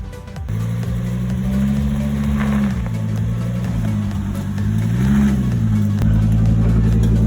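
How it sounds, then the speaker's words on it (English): A car strains forward away from a wall while rolling on a log, its engine giving a loud steady low drone that shifts pitch under load, close by, with no talk over it. "We're gonna try and move the car forward to get away from the wall"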